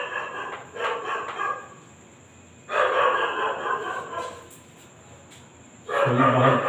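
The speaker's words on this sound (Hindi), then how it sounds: "बाहर कुत्ते की भौंकने की आवाज आ रही है।" A dog barks outdoors in several rapid bursts, separated by quieter gaps, coming through from a little distance in a plain indoor setting.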